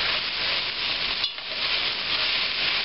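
Celery and onions cooking in a pan for a cornbread oyster sausage stuffing, a continuous loud close sizzle and hiss with a brief stir or scrape near the middle, no voices.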